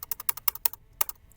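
Quick keystrokes clatter on a computer keyboard, about ten crisp clicks in an uneven burst with a brief pause near the end, close and alone.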